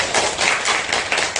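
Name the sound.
applause at a rally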